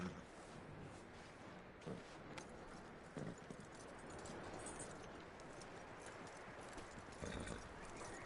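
Horse hooves clip-clopping at a steady walking rhythm in the video game Red Dead Redemption 2, faint and continuous with a soft ambient background.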